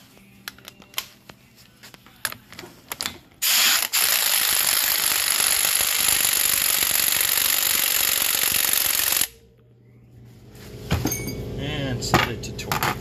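A socket wrench spins on a bolt of a Polaris Ranger 800 engine bottom end in one loud, continuous, rapid ratcheting burst lasting about six seconds, with scattered tool clatter before and after.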